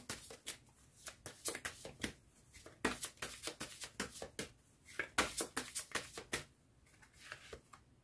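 Tarot cards are shuffled by hand in rapid, crisp riffling bursts, close and steady, with brief pauses between flurries and no talking.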